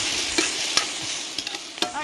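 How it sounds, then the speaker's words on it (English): Beef sizzling as it pan fries over high heat, a steady dense crackle with a few brief spatters and stirring scrapes close by, no talking. "You need to control your heat when you're pan frying."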